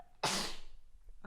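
A single sudden sneeze bursts out close and sharp, then trails off into a breathy decay within about a second.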